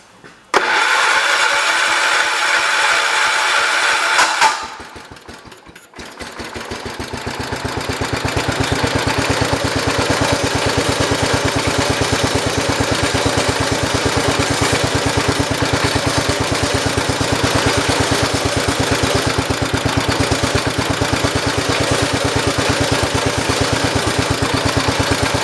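A 1973 car engine, just after carburetor work, cranks and catches, then settles into a steady, loud idle with a continuous low rumble close by.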